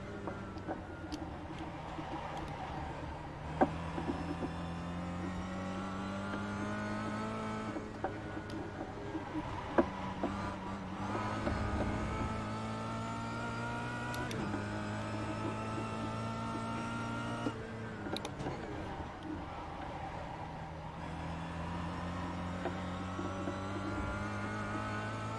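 A race car is driven hard, its engine rising and falling in repeated revving pitch sweeps between gear changes, steady and close, with faint clicks throughout.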